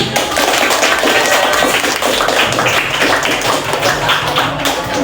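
Students in a classroom applaud together, a loud, continuous burst of many hands clapping that keeps up for about five seconds.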